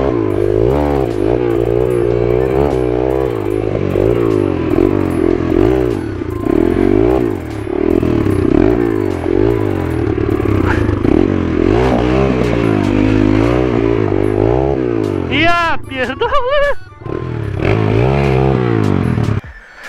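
A motorcycle engine revs hard and steadily while the bike is stuck, loud and close, with rising and falling pitch and mechanical clatter, briefly dipping near the end before roaring again.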